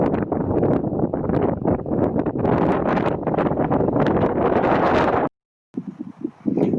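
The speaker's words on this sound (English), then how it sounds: "Great view, but super windy." Strong wind buffets the microphone in loud, roaring gusts on a Colorado mountain trail for several seconds, then cuts off abruptly, leaving quieter rustling.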